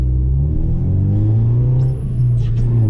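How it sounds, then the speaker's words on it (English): An ambulance drives past on a street, a loud, close, low engine rumble that holds steady and swells slightly as it goes by. "We'll just let this ambulance go past"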